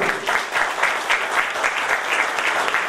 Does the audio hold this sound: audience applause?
yes